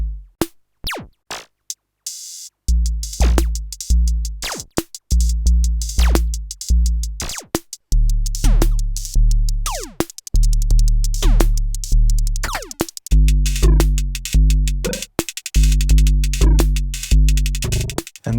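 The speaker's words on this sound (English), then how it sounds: "It's an analog 5-voice drum machine with a deep and pretty intuitive sequencer" A Cre8audio Boom Chick analog five-voice drum machine plays a sequenced pattern of punchy kicks, snappy hits and ticking hats. A few sparse hits come first, then the full groove runs loud and steady.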